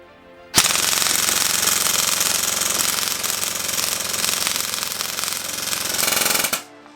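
Rapid, continuous full-auto burst from an Evolution Airsoft TangoDown ECR-5 airsoft rifle, a dense buzzing rattle lasting about six seconds at steady close-up loudness, with no talk.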